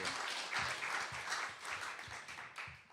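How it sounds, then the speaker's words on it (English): Audience applause welcoming a poet to the stage at a poetry reading in a chapel, a dense burst of clapping heard fairly faint and distant, continuous for the whole stretch. "Give him a round of applause, please."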